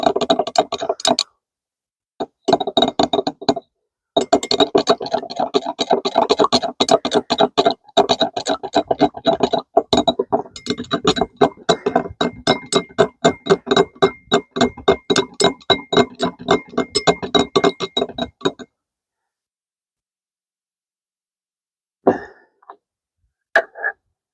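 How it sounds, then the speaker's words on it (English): A tool stirs paint thinned with thinners inside a container during boat work, producing a quick, steady run of rhythmic knocks and scrapes for about fifteen seconds before it stops, followed by a few faint clicks. "just put a little bit of thinners into it. Just that much, I think. Let me stir it up, see the consistency."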